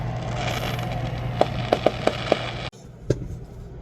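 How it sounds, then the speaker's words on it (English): Fireworks going off in the distance, a run of five or six sharp pops in quick irregular succession over steady background noise, then one more faint bang after a brief quiet. "I thought I was someplace where I wouldn't have to worry about fireworks. Boy, was I wrong."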